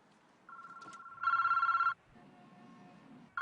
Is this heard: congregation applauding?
no